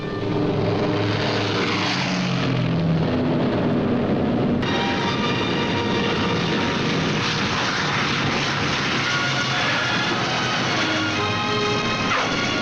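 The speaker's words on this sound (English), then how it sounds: "But first Morgan buzzes the field, cuts the grass with the giant fortress" The B-17 Flying Fortress Memphis Belle roars low over an English airfield, its propeller engines a loud, steady, continuous drone throughout with no voices.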